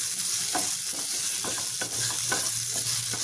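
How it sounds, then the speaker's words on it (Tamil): Onions sauté in a pan for a roasted-and-ground fish kulambu, giving a loud continuous sizzle close up with rhythmic stirring scrapes and no talk. "வெங்காயத்தை நல்லா வதக்கிக்கலாம்"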